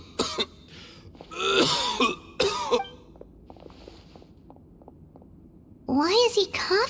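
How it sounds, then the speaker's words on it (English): Repeated rough, raspy coughing and throat clearing from a character in Genshin Impact comes in several bursts, separated by quieter stretches with light tapping sounds. "Why is he coughing so much?"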